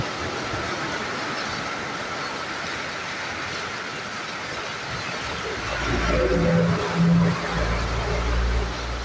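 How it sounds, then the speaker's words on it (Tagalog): Heavy tropical-storm rain from Tropical Storm Paolo pours down in Bato, Leyte, as a dense, steady roar close by. It swells louder in the last few seconds with a low rumble underneath. "Grabe yung ulan, no?"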